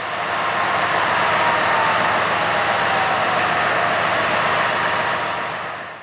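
Several CSX GEVO diesel locomotives notching up, a steady, loud broadband engine roar that holds evenly throughout and eases slightly at the end, with no talk.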